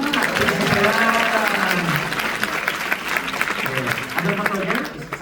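A church congregation breaks into loud, dense applause that carries on for several seconds, with voices calling and talking over the clapping throughout.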